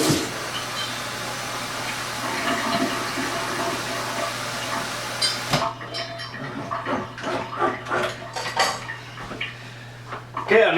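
Water pours loudly and steadily into a Coopers Mexican Cerveza homebrew beer mix for about five seconds, then stops abruptly and gives way to uneven sloshing and clattering.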